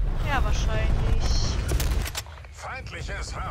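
Rapid gunfire and rumbling explosions in the Cold War shooter Call of Duty Black Ops Cold War, loud and dense in the first two seconds, with people talking over the action.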